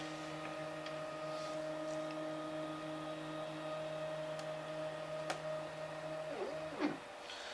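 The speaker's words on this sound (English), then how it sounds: "Let me move the Z-axis real fast to show you." A Robo 3D R1 3D printer drives its Z-axis quickly along coarse-pitch lead screws, giving a steady multi-toned motor whine with a few faint ticks, and the pitch dips and wobbles as the motion slows and stops near the end.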